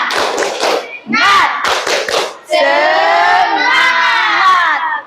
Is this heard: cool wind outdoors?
no